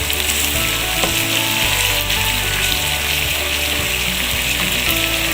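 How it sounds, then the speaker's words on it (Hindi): Ginger garlic paste fries in a pan with a loud, steady sizzle that runs unbroken throughout, close up, with no one speaking over it. "अदरक लहसुन पेस्ट भून रहे हैं, हल्की सी इसकी भुनाई करनी है जब तक खुशबू ना आ जाए।"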